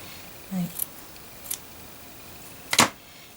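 Scissors snip through material while a shabby chic hanging heart is being shaped, giving a few short, crisp cuts spaced apart against a quiet background, with one louder snip near the end.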